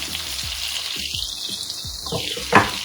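Garlic, green chili and salt sizzle steadily in a hot pan, a continuous broadband frying hiss with a few soft stirring scrapes and a brief louder clink near the end.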